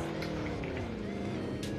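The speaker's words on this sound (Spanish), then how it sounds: "¡Carro, carro, carro!" A car driving in Call of Duty: Warzone, a steady droning engine whine with a slight pitch glide, close and constant throughout, with no talk over it.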